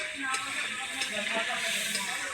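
Spices frying in oil while cooking at an outdoor picnic, a continuous bright sizzle and hiss with faint crackles, steady and close, with light background chatter.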